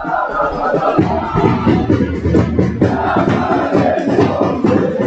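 A dense stadium crowd roars and chants loudly and continuously after a goal in an Egyptian league football match, with voices rising and surging throughout.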